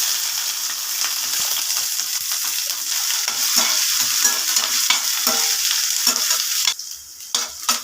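Curry leaves, small onions, dried red chillies and chana dal crackling in hot oil for tempering, a dense steady sizzle with stirring scrapes, the frying dropping away briefly near the end.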